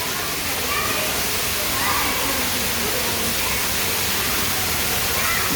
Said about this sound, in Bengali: এখানে ঝর্ণার পানি পড়ছে,